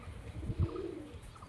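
A Giribaz pigeon coos close by, a short low throaty coo swelling around the middle of the moment over faint room noise, with no one talking.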